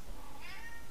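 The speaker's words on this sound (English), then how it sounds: "if you hear a bell in the background, that's actually my cat" A pet cat sounds faintly in the background for under a second, a soft meow-like call with no bell clearly audible, over a steady low hum.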